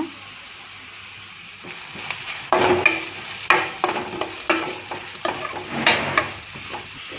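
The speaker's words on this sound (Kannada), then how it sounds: "ಸ್ವಲ್ಪ ಫ್ರೈ ಆದಮೇಲೆ ಟೊಮೆಟೊ ಹಣ್ಣು ಹಾಕೋಣ" Tomatoes going into a pan of frying seasoning for avalakki, heard as a quiet sizzle building into a run of close spatula stirs and scrapes in an uneven rhythm.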